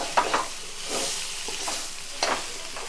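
Chicken curry leaf pakodi is stirred as it fries in a kadai, with sharp scraping strokes at irregular intervals over a steady close sizzle.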